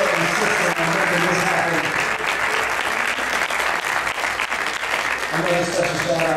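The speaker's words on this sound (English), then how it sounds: "Can we get another round of applause for Tadeem Hamidou for being so, so insisten" Loud, sustained audience applause at a concert in Toledo, Ohio, a dense wash of clapping that holds steady for the whole stretch with no break.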